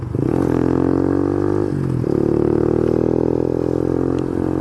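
An Icebear Champion 125cc motorcycle, a CT70/Dax-style clone, rides up a small dirt trail, its small engine droning steadily close up, dipping briefly as it shifts, then pulling again with light rattles.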